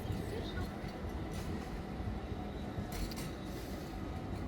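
A tram rumbles past nearby in front of Hagia Sophia in Istanbul, with a low steady roll of wheels on rails and brief metallic squeals, over faint street murmur.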